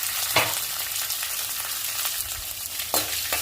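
Green chillies, curry leaves and grated ginger frying in hot oil, a loud dense sizzle with a couple of sharp stirring scrapes, close up and brief.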